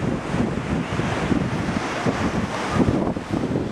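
Ocean surf rolls in at Myrtle Beach, South Carolina, a steady broadband wash of breaking waves buffeted by strong wind noise on the microphone, continuous and fairly loud with no talking.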